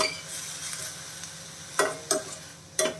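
Vermicelli fries in a pan under a soft, steady sizzle, broken by three sharp scraping stirs near the end, close by and with no talk.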